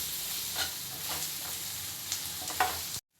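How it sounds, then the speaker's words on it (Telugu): Ginger garlic paste stirred in a hot pan for egg curry, a soft continuous sizzle with a few light scraping strokes of the spoon, close and moderately quiet, cutting off abruptly at the end. "అల్లం వెల్లుల్లి పేస్ట్ యాడ్ చేసుకోవాలి ఇంతవరకు మిక్స్ చేయాలి"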